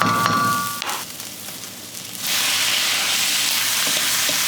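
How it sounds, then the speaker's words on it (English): Liver frying in a pan starts with a few clinks and scrapes, then erupts into a loud, steady sizzle close by that continues without pause. "when you fry the liver, just push it to one side of the pan."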